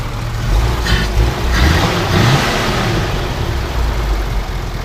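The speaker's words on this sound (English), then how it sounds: "So go ahead and rev it up." A 1947 Ford pickup with dual water pumps revs its engine, loud and close, with a couple of throttle blips rising over a rumbling idle before settling back to a steady run.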